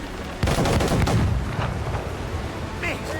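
Warship cannons boom in a naval battle in the video game Assassin's Creed Rogue, a heavy blast followed by rumbling, rolling reports and debris, with crew voices shouting under the gunfire.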